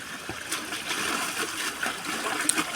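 Leafy greens such as amaranth being rinsed in water on a farm, with steady close splashing and trickling and small irregular splatters throughout, no voices.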